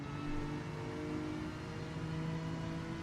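A Honda NSX engine in Gran Turismo 7 at Watkins Glen hums steadily as the driver eases off the throttle through a chicane, giving a smooth, continuous mid-pitched drone with no sharp revving.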